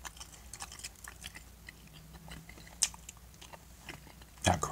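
Close, crisp crunching as someone bites into and chews crunchy fried chicken katsu, a series of sharp bites and chews with one loud crunch near the end.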